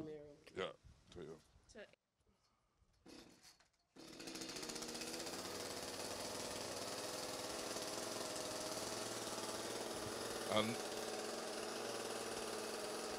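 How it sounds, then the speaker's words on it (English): A chainsaw starts up and runs steadily in Belize as a drum is being made, a loud continuous engine roar after a few seconds of people talking. "So the chainsaw is running."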